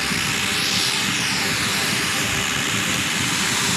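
A red-hot poker, heated on a coal fire, plunged into a pint of Guinness to toast the foam and warm the beer; a steady, loud hiss and sizzle runs unbroken throughout, with no talking over it.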